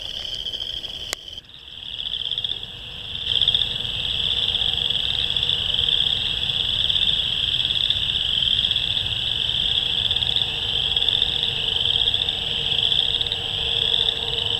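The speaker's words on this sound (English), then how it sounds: "There are lots of western chorus frogs getting it on." Western chorus frogs call from spring vernal pools in a field near Niagara, forming a loud, dense, steady trilling chorus that begins abruptly and continues unbroken.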